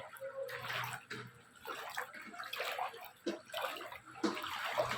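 Someone wading through deep floodwater on the way home, with continuous close sloshing and splashing of water around the legs, surging in uneven waves, and faint voices now and then underneath.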